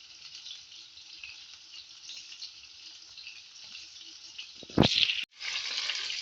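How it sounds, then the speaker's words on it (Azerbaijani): Kazan meatball cutlets sizzle steadily in oil in a frying pan, a constant bright crackle with a sudden louder burst and brief gap near the end, close and alone. "İndi isə kazan kotletləri bir qızardırıq."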